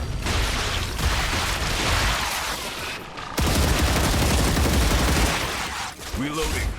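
A mining laser fires in the sci-fi game StarRupture, a dense, roaring crackle of sustained energy fire that breaks off briefly and resumes even louder, with a voice talking faintly beneath it.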